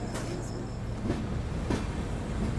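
Kashi Vishwanath Express pulling into Lucknow Junction at night: a steady, loud low rumble of the moving train with faint wheel clatter throughout, no voices.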